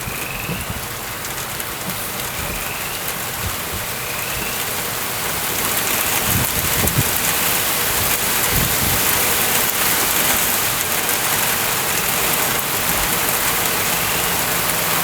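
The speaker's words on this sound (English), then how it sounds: "the rain has begun" Steady rain drums on a truck camper built on a Tacoma during a storm, a dense continuous hiss that swells louder about halfway through, with a few dull low knocks underneath and no voices.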